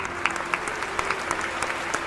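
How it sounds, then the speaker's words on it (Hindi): Audience applause in a seated hall at a Hindi spoken-word talk: steady, dense clapping from many hands, fairly close and even throughout, with no voices over it. "ये जितने लोग बैठे हैं इन सबने ताली बजाई इस बात पर।"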